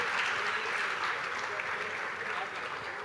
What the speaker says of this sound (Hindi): जोरदार ताली एवरीवन